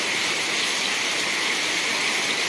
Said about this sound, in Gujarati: મસ્ત વરસાદ છે વરસે છે.